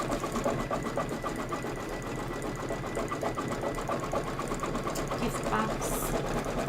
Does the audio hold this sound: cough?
no